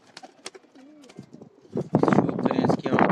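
Breeder pigeons, Salkoti cross and crested birds, cooing at a loft in Rawalpindi, with soft rolling coos early on, then mixed with rustling, wing and foot noise and nearby voices talking.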